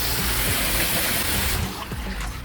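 Water splashes steadily from a backyard waterfall fountain driven by a pump, a loud, dense rushing that eases slightly near the end, with no voices.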